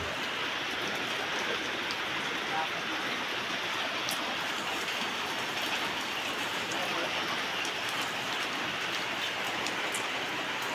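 Steady, dense rain falls outdoors, a continuous loud patter and hiss with occasional sharper drop impacts, no voices heard over it.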